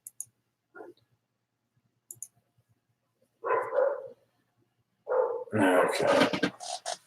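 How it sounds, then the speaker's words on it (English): English Springer Spaniels barking downstairs, muffled and somewhat distant, in a couple of short bursts after a few faint clicks, with quiet gaps between. "Dog's downstairs."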